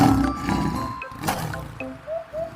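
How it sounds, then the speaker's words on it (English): A tiger gives a short, rough roar up close, with a few softer grunting tones trailing off near the end. "Tiger."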